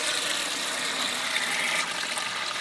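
Coolant drains out of a blown Mustang engine with a steady hiss-like splashing rush of liquid, continuous and fairly close with no speech.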